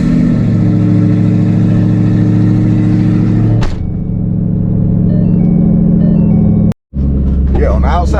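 On3 twin turbo Ford Mustang GT with an open pipe, engine revving loud and close in a steady droning rumble that drops briefly, rises again, then cuts out before returning with people talking over it.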